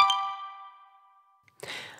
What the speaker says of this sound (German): es gibt aber einen Ton, wenn der Wecker klingelt.